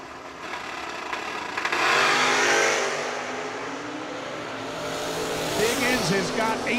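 A Roadster Mustang revs and races past at an auto racing event, engine noise swelling and fading with some tire squeal while an announcer talks over it.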